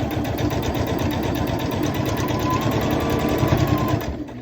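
A sewing machine stitching quilt block seams runs in a steady, fast, close mechanical chatter for several seconds, then stops near the end.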